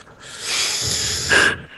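Several players in Garry's Mod Prop Hunt voice chat imitate heavy breathing with their voices, producing a breathy, hissing rush of exhaled air lasting over a second and swelling to a louder puff near the end.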